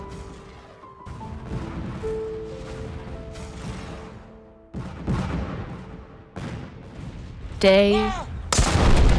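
Civil War artillery shelling Vicksburg under Grant thunders in a series of heavy booming blasts, some spaced apart and others in closer succession, with a whistling, wavering rush near the end before a final loud crash.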